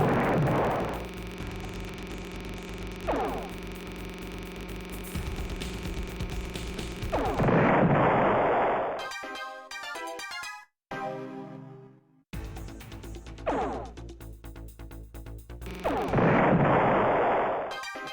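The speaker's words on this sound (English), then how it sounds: "Elbor's cannons are pretty powerful" Heavy cannon fire from ship combat in the space game The Ur-Quan Masters, loud bursts of booming, crackling shots that repeat across the span with short gaps and electronic game effects between them.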